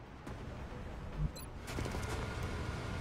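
Gunfire in the turn-based strategy game XCOM is heard as a short sharp crack, then a rougher burst of shots and rumbling noise that continues to the end.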